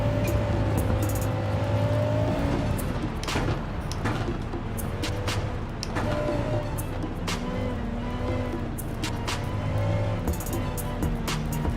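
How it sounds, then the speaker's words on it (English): Gran Turismo 7 car engine and exhaust roar continuously at close range, revving and shifting through the race with repeated sharp bursts and pops, and a voice speaks briefly over it. "I do like what this car sounds like. I wish the exhaust was a tiny bit throatier though."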